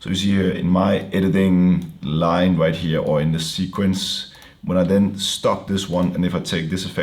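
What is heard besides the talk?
No everyday noises stand out.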